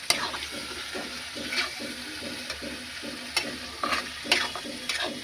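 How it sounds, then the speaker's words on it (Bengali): Rice and masoor lentils are stirred together in a pot for khichuri, giving a faint, rhythmic scraping and shuffling with a soft sizzle beneath, repeating at a steady pace with occasional sharper scrapes. "এই চাল আর ডাল দিয়ে একসাথে নাড়বো"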